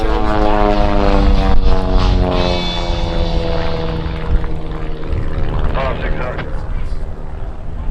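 A 100-horsepower propeller airplane flying aerobatics at the Westmoreland County Airshow, its engine a loud, steady droning hum that rises and falls slightly, with an announcer talking over it throughout.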